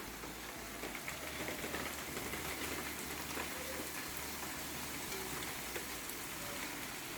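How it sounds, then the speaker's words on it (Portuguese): Steady rain falls outside, a dense, even hiss of drops on surfaces that stays continuous and fairly loud throughout, with no talking. "Começou a chover, pessoal."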